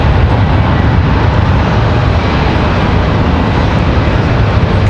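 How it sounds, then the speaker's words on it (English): An American Airlines Boeing 737 rolls for takeoff at Raleigh-Durham, a loud continuous low-pitched engine roar that stays steady and close throughout. "we've got an American Airlines 737 rolling"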